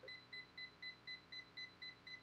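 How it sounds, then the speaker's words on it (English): A curling iron gives a rapid run of about nine short, high electronic beeps, evenly spaced and fairly quiet. "if you guys seen it kind of started beeping"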